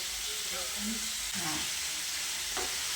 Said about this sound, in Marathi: आता पनीर फ्राय करून घ्यायला